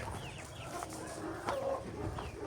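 Sussex chicks and chickens in a temporary coop give soft, scattered clucks and short peeping calls nearby, over a low, steady background murmur, with a slightly louder call near the middle.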